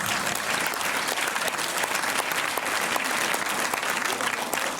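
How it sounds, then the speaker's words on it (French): Steady, dense applause from a cinema audience at the Méliès in Montreuil fills the whole stretch, close and even in loudness, with no clear talking over it. "Et donc on va tous applaudir parce que nous sommes tous publics finalement."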